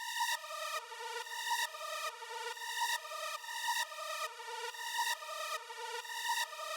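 A harsh lead synth preset plays a repeating pattern of bright, buzzy stepped notes in a loop, clear and steady throughout with no voices.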